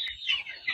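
Native Filipino chickens on a farm, a close, high clucking and squawking call that rises and falls over a short moment, with other birds faintly behind and no talking.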